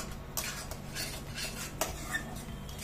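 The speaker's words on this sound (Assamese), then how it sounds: "এইবোৰ চব কিন্তু ফ্ৰ'জেন মটৰ এইখিনি ইয়াৰ লগত লৰাই দিছোঁ" Frozen peas stirred into fried spices in a pan for matar malai mushroom, a spoon scraping and clinking against the metal in steady strokes, with a faint low hum underneath.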